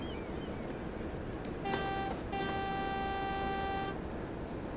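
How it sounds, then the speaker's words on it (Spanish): A train horn sounds in Train Sim World on the West Somerset Railway, with one long steady blast that briefly dips before holding on for about two seconds over a low rumble. "cuando toca la bocina"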